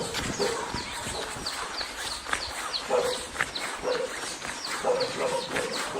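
Dog barking at a quiet rural border area between provinces, with short repeated barks at middle distance over steady outdoor ambience and birds.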